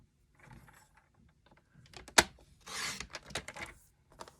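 Paper being trimmed while making a handmade greeting card, heard as soft scraping and rubbing with a sharp snip and a brief longer cutting pass, close and fairly quiet with no talking.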